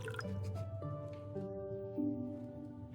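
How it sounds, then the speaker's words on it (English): Mead poured into a wooden cup gives a close, trickling liquid sound with rising tonal gurgles as the cup fills, brief and alone. "She pours a wooden cup of"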